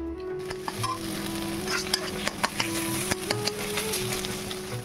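Aloo paratha frying in a hot pan gives a steady, close sizzle with a low hum underneath and a few soft clicks and taps throughout.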